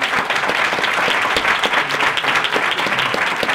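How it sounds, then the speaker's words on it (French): Applause from an audience at a French talk on colocation cash flow, following a presentation, a steady dense wash of clapping throughout, moderately loud and close, with no speech over it. "Un applaudissement pour Audrey"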